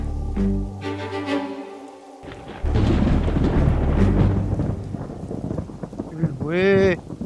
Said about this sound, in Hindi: बारिश तो बहुत तेज हो रही है ना